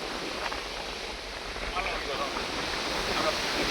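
Wind blows across an open farm field in a steady, loud, unbroken rush that swells slightly toward the end.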